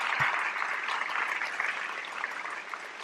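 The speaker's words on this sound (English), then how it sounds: "I think I have an applause thing on my piano" Canned applause effect triggered from a digital piano at a keynote event, a steady wash of clapping and crowd noise lasting throughout, moderately loud with no speech over it.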